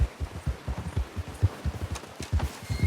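Horse hooves clip-clopping at a steady walking rhythm in the video game Red Dead Redemption 2, close and continuous with no talk.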